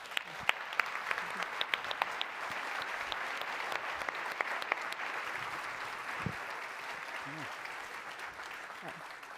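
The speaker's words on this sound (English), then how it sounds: "A round of applause for our panelists." Audience at a European awards event applauding panelists, a steady wash of clapping from a room crowd, moderately distant, with a few sharper claps and brief voices.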